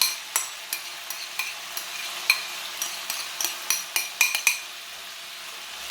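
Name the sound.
kimchi added and stirred into a frying pan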